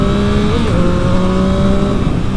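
A 2021 Yamaha MT-09 SP motorcycle engine revs loudly and close, with a steady strong tone that shifts pitch briefly partway through, no talking.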